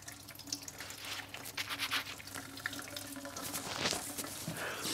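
Old petrol runs from the tank of a Mercedes 450 SLC 5.0 into a bucket, a quiet steady trickling stream with soft splashes and drips over a low hum, no voices.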